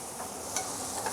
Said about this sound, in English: You hear the sizzle.